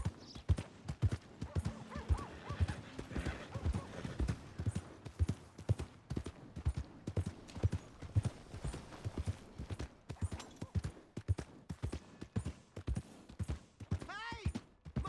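Steady clip-clop of horse hooves trotting close by in Red Dead Redemption 2, with occasional voices, a horse whinnying near the end, and other game sounds mixed in.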